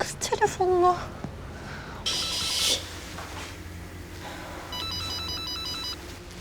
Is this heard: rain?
no